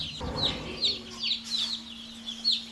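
Baby chicks peeping in a brooder, high repeated chirps in a steady rhythm about twice a second, close and clear over a low constant hum.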